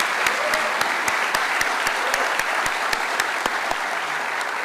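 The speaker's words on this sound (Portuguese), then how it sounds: "vamos até te aplaudir de novo agora" Steady, loud audience applause at an economics week event in a lecture hall, dense clapping with a few sharp distinct claps standing out, continuing evenly without talk.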